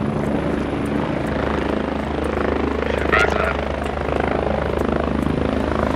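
Military helicopter in the Squad video game, its rotor and engine drone steady and loud throughout, with a voice talking over it.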